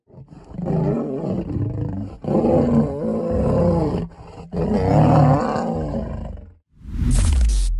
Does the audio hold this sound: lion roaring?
yes